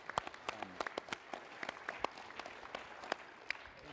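Scattered, fairly faint clapping from an audience at Macworld 2010, honoring the Knoll brothers for Photoshop's 20th anniversary; individual claps stand out sparsely rather than forming a full ovation.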